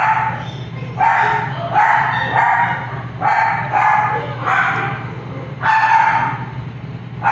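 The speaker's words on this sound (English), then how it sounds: "And the dogs are going crazy." Several dogs bark repeatedly indoors, in loud bursts of yaps and woofs with short gaps between them.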